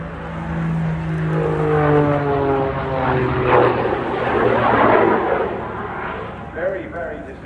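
A propeller-driven display plane at the English Riviera Airshow roars past, its engine drone rising and falling with a shifting pitch as it passes overhead, while a commentator talks over it.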